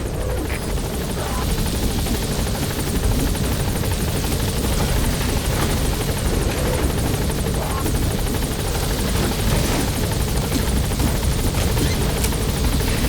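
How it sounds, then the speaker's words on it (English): A military helicopter in the Metal Gear Solid V video game sets down, its rotor chopping as a steady, loud roar that holds for the whole stretch with no break. "the chopper's touching down. Don't waste any time getting on board."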